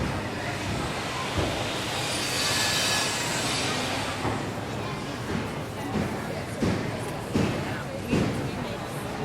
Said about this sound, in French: Ce sont les trains qu'on entend